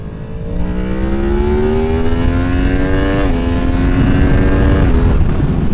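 A 2023 Yamaha MT-10 with a flashed ECU pulls hard, its engine note climbing steadily in pitch through a gear, then a quick shift dip and another rising pull. The sound is loud and close with a rough, buzzy roar, and no one is talking.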